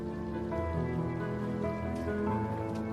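Steady rain falls over flooded Venice streets during a high tide driven by Scirocco winds, a dense continuous patter mixed with a lapping water wash, with no voices.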